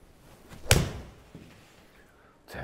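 A golf ball struck into a practice net gives one sharp, fairly quiet smack with a short dull thud, followed by faint rustling and a soft knock in a quiet space.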